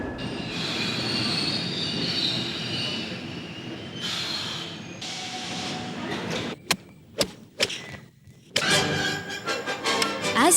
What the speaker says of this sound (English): Calcutta's most modern invention, the metro, is the only one of its kind in India.